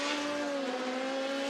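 LMP1 and LMP2 prototype race cars at the Le Mans 24 Hours produce a loud, steady, high engine whine that holds a constant pitch, with no talk over it.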